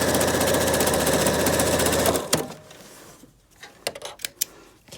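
A sewing machine stitching a plain zigzag stitch on face-mask fabric runs with a loud, rapid mechanical whirr for about two seconds, then stops, followed by a few quieter clicks and taps of handling.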